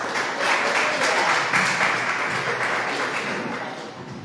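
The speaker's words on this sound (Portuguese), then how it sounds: "Dê mais um aplauso ao Senhor" Members of a church congregation clap for the Lord at a Portuguese-language worship service, a thick burst of applause that swells near the start and then gradually fades.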